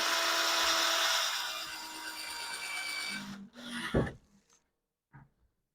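A power driver whines steadily as it sinks a screw into a ping-pong table under assembly, the motor pitch sagging under load for about three seconds before stopping, followed by a few short clicks and knocks.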